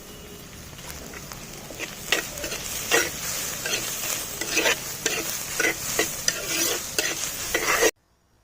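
Onions with ginger and garlic fry in a pan for spicy prawn roast, a steady close sizzle broken by repeated scraping stirs, with no one talking, until it cuts off abruptly near the end.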